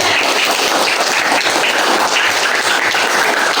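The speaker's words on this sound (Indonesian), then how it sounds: "Tepuk tangan untuk semuanya." A primary school class gives a round of applause for everyone, dense continuous clapping that is loud and close, filling the whole stretch without talk.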